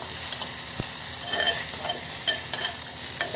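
Tomatoes and onions fry in a hot clay pot for a fish curry, with a steady close sizzle and the scrape and clack of a spoon stirring against the earthenware.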